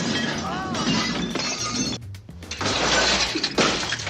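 Glass shatters during a fight scene in the 1983 James Bond film Never Say Never Again, with loud crashing bursts and scattered debris mixed under film dialogue and music, broken by a brief drop near the middle.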